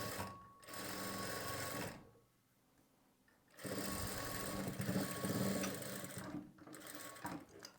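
Sewing machine stitching the side seam of a blouse, two sustained motor runs of steady whirring stitching separated by a quiet pause, close and fairly loud with no talk.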